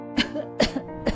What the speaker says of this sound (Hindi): हे भगवान, ये खांसी कब खत्म होगी?